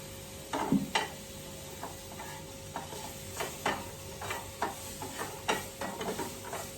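Capsicum stirred in a frying pan while preparing Indian-style bibimbap, giving soft scattered sizzling with intermittent scraping and stirring clatters at close range, no voices.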